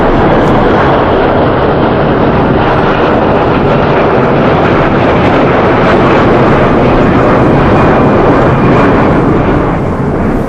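A cargo airplane flying in from Europe to load fish, a loud continuous roar of engine and wind noise that holds steady throughout.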